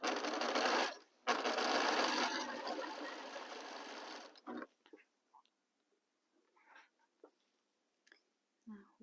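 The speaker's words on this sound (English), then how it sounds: "I organize my fabrics and start sewing." A sewing machine stitches fabric for a quilt block with a quarter-inch seam, a loud, dense mechanical whir for about four seconds with one short pause, followed by faint handling clicks and rustles.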